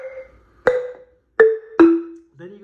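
Marimba struck for the opening notes of a song, a few separate mallet hits with short warm ringing tones and gaps between them, close and clear with no talking.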